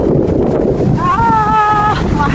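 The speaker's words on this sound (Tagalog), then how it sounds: "Mahangin. Kahit saan tayo pupunta, mahangin." Loud, continuous low rumble of wind buffeting a microphone outdoors in Cheltenham in the Cotswolds, with a faint tonal whine partway through.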